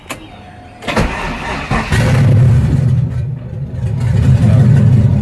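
An LS V8 swapped into a Mazda FD RX-7 cranks and fires on open headers, catching after a couple of brief starter bursts and settling into a loud, deep, rough idle rumble close by.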